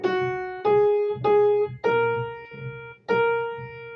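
Piano notes in a lesson, each struck loudly and then decaying softer, five separate notes with clear sustained ringing tones, close and alone.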